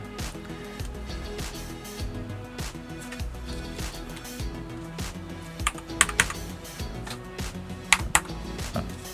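Steady clacky typing on an FL Esports CMMK MK870 barebone mechanical keyboard kit, rapid keystrokes in an uneven rhythm with a few sharper, louder clicks, close and without speech.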